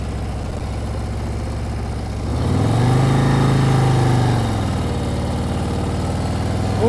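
Motorcycle engine idles, then revs up and holds higher RPM for about two seconds during a slow-speed right turn before settling back to a low idle, close and steady, with no talk.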